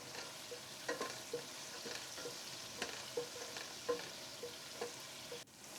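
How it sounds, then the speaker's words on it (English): Whole spices frying in a pot just used for shallow-frying prawns for seafood pulao: a quiet, steady sizzle punctuated by regular light scrapes and taps of a stirring spoon. "In the same pot add the whole spices. and give them a stir."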